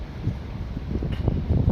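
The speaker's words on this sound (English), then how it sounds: "It is very windy" Low, steady wind rumble buffeting the microphone, a continuous blustery roar outdoors at a stadium construction site with no voices.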